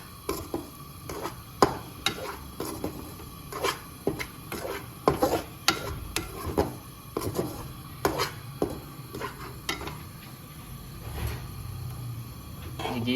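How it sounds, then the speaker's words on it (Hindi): Ghee being stirred into wheat flour for barfi in a pan, a series of scraping, rasping strokes with irregular bumps and knocks, close and fairly quiet, with no voices. "अब इसमें 1 चमचा घी डाल दें। इसको अच्छी तरह मिक्स कर लें।"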